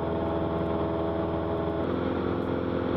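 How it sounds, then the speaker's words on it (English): Steady droning rumble of a propeller plane's engine in flight, loud and constant with a harmonic hum that shifts slightly in pitch partway through. "you'll feel the rumble of the engine"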